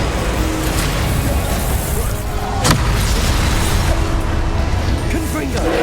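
A Confringo blasting spell goes off in Hogwarts Legacy as one sharp blast. It rises over a dense, continuous roar of game noise.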